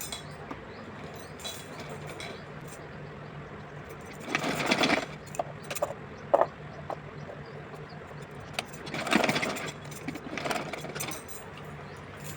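Sewing machine stitching the bodice of a doll dress to its skirt, two short runs of whirring stitches with quiet pauses and light clinks between them.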